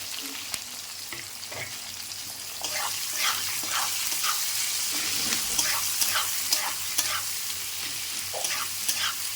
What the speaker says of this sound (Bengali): ফোড়নটা একটু ভেজে নেব।